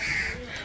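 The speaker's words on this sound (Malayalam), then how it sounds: "ഇവര് കാക്കൊക്കെ ബിസ്ക്കറ്റ്" A single short, loud caw from a crow cuts through a noisy outdoor background in Kozhikode.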